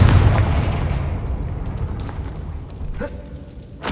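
Confringo blasting spell from the Hogwarts Legacy video game erupts in a loud, rumbling explosion that slowly decays, followed by a couple of fainter pops and bursts.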